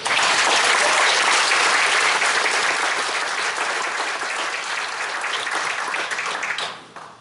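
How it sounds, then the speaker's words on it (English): Loud, dense applause from the audience at an annual company meeting honoring employees, sustained for several seconds before tapering off at the end. "Please join me in a round of applause for all the employees."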